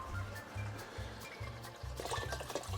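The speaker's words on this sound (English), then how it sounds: "Here we have our water." Water is poured into a pot to make fish soup, coming as a soft, intermittent run of liquid splashes and trickles that repeat in short bursts, quiet and close, with no talking.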